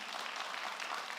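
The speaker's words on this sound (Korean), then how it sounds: "우리 박수하도록 하겠습니다" Church congregation applauding during a Sunday worship service at a Korean church, a steady, even wash of clapping from many hands throughout, no voices over it.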